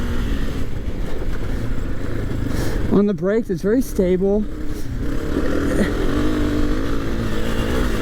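A 2022 Honda CRF250F dirt bike engine drones steadily while being ridden off-road, a loud continuous motor hum running the whole time beneath a rider talking over it.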